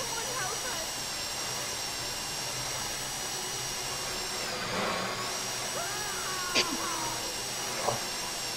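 A drill bores through a lock in Grand Theft Auto, a continuous whining, hissing drone that holds steady with slight pitch wavers and a few brief clanks, while players talk faintly underneath.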